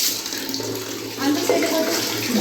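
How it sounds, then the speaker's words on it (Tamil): Water poured over scrubbed bathroom floor tiles to rinse them, a steady close splashing wash that swells and grows louder partway through, with faint voice-like tones in the background. "நம்ம தண்ணி விட்டு நல்லா க்ளீன் பண்ணிடலாம்."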